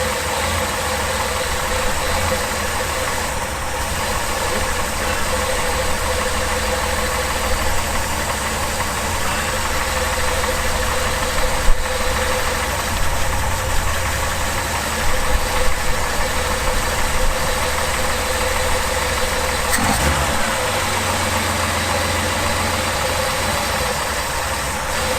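Steady idle of a Reliant Scimitar car engine during ignition timing adjustment, a continuous even rumble running throughout at close range with no talking.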